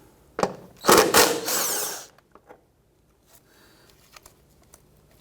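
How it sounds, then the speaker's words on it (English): A socket wrench with a 10mm socket loosening a bolt on a 2011-2015 Kia Sorento during front wheel bearing and hub work, a close burst of fast ratcheting clicks followed by a few scattered metallic taps. "Use our 10mm socket, loosen and remove this bolt."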